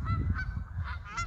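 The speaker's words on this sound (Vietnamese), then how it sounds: "Cái con này là con ngỗng" Geese honk in an open park in Germany in autumn, several nasal honks in quick succession, close and fairly loud over a low rumbling background.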